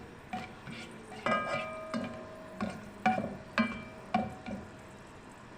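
Whole garam masala spices stirred in hot oil for mutton paya, a soft sizzle under a series of sharp scrapes and clinks from a spoon against the pan at irregular intervals, close and fairly quiet.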